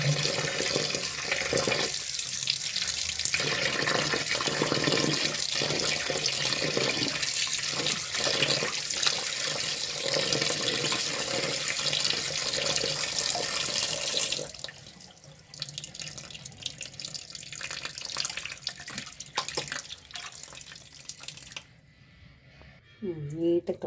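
A tap runs steadily as native country chicken pieces are washed with turmeric powder, loud and continuous for about fifteen seconds before the flow eases to a thinner, quieter stream with faint splashing.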